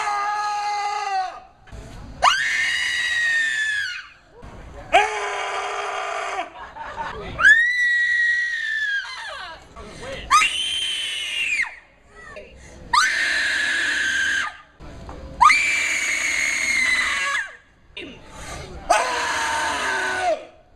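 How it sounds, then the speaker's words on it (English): Contestants at a creepy scream contest take turns letting out long, loud, high-pitched shrieks, about eight separate screams with short pauses between them, some wavering and rising, heard close and with no talk between them. "Give us your creepiest, scariest scream."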